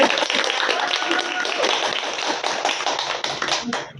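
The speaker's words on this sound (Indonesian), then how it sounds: "Beri tepuk tangan." Audience applause at an Indonesian podcast taping on young santri and worldly careers, a steady patter of many hands clapping for about four seconds, moderately near, with a few sharper individual claps toward the end.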